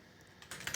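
Brief burst of computer keyboard typing while coding in Dart and Flutter, a few quick soft key clicks close by, with no talk.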